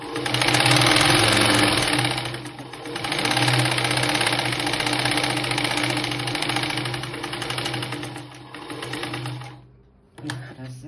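A sewing machine runs steadily while stitching a blouse, a loud continuous mechanical whir with a rapid needle beat that eases briefly a few times and stops near the end, with someone talking over it.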